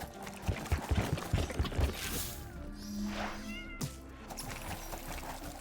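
A cat meows in the video game The Wild At Heart, a drawn-out whining call over the game's music and thumping sound effects.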